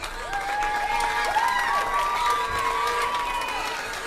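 A crowd at a youth swine show applauds the young showmen, with steady clapping and a few whistles and cheers carrying over it for several seconds.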